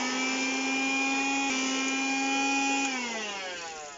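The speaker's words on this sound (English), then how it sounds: "I'm now going to do a secondary vacuum after that chiselling" A vacuum cleaner, its bag getting full, sucks up loose ballast on a model railway layout. It gives a loud steady whine that sways slightly in pitch and then winds down as the motor slows.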